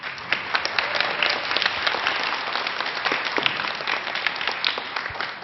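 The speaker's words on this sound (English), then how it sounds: "so also give yourselves a round of applause." Audience applause at a school spring concert for fifth and sixth graders, dense, steady clapping from a full room, continuing without a break.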